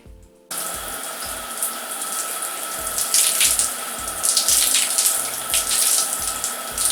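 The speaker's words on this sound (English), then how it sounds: "full rinse out on the first section" Tap water runs steadily to rinse deep conditioner out of a section of hair, a continuous splashing hiss that starts abruptly and stays loud, with no talking.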